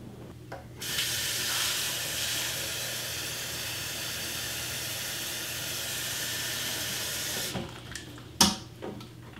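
Tap water runs steadily into a kitchen sink as a gallon is filled for iced tea, a continuous broad hiss lasting most of the stretch, ending with a few clanks and knocks.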